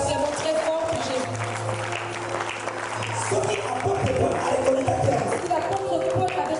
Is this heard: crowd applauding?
yes